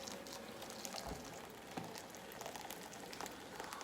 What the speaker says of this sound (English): Half a pint of boiling water.